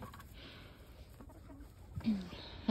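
Backyard chickens cluck softly in a snowy winter setting, a few quiet calls scattered over low background noise, with a louder, closer cluck near the end.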